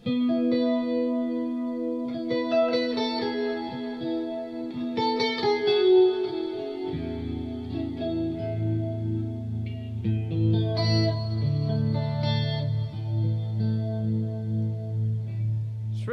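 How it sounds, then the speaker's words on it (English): Electric guitar notes and chords through a Line 6 Helix, drenched in reverb, delay and parallel chorus, with shimmering echoing tails over a sustained low note. "this one just has a bigger reverb and delay, and it has some kind of chorus thing in parallel"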